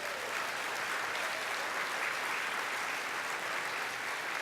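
Audience at a corporate awards event clapping for sponsor companies, a dense, sustained burst of applause that holds steady throughout without talk.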